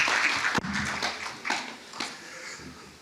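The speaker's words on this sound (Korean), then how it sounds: "큰 박수로 환영해 주시기 바랍니다." Applause from the audience at a university graduation ceremony, a soft spread of clapping that fades over a few seconds, with a few sharper claps standing out.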